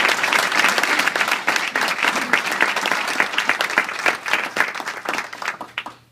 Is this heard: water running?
no